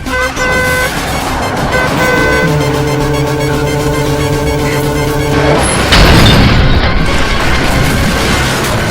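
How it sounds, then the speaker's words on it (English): Animated sound effects: a sustained car horn toots with layered tones for several seconds, then a loud, close crash and boom bursts in and lingers as a noisy rumble. "What was that loud crash?"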